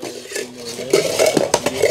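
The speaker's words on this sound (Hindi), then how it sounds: "ये इसके अंदर फ्राई पैन आ गया," A camping frying pan from a portable cookware set is handled up close, giving several ringing metallic clanks and scrapes in quick succession with no speech.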